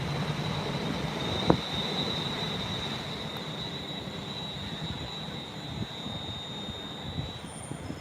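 A Freightliner Class 66 freight locomotive rolls to a stop at a station platform, with a steady high brake squeal ringing throughout over a low rumbling rail noise and a few sharp knocks.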